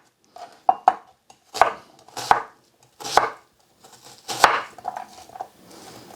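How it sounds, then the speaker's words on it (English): Half a white onion cut chunkily with a knife on a board, about eight sharp, distinct chops in an uneven rhythm, close and crisp with near silence between strokes. "Now I'm going to take half a white onion, which again I'm going to cut quite chunkily"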